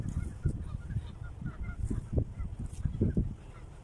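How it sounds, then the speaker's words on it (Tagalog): Repeated low, honking bird calls sound at close range, several short cries in an irregular rhythm over faint background noise. "Ganda nung ano ng ibon. Ayan o, naririnig nyo ba?"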